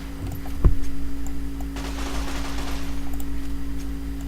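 Survivalist rifle converted to full-auto in Fallout: New Vegas: a sharp first shot followed by a rapid, steady burst of gunfire over a constant low hum.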